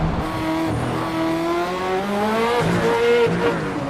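Race car engine in the Assetto Corsa EVO racing game, a loud sustained engine whine with rising and falling revs through gear changes and faint tyre noise, steady and close throughout with no talking.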